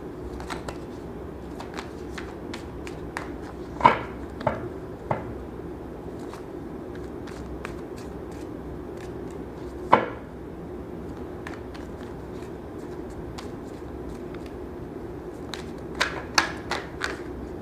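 Tarot cards are shuffled by hand during a reading, a quiet ongoing riffle of soft ticks and light slaps, with a few sharper clacks standing out near the start, middle and end.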